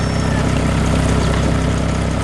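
A green cartoon farm tractor working a rice field while planting seeds gives off a loud, continuous, close engine drone at an even pitch, with no voices.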